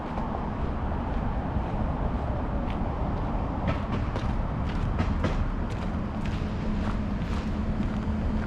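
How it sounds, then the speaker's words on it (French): Montreal metro train at Angrignon station, a steady broadband rumble of rolling cars with intermittent clicks and rattles over the rails, continuous and fairly loud throughout, no talk. "Donc c'est ça le métro en Grignon."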